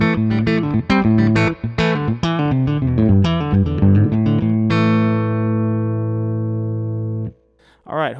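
Electric guitar played through a 1970 Fender Twin Reverb amp on the neck pickup, loud and clean with quick picked notes and chords, then a long ringing chord sustaining for a few seconds before cutting off.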